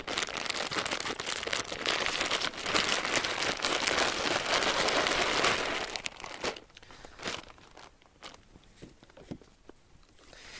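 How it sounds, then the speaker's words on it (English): Mushroom grain spawn is squeezed and crushed inside a plastic bag, giving dense, loud crinkling and crunching for about six seconds, then quieter scattered rustles and crackles. "I like to crush my grains in the bag"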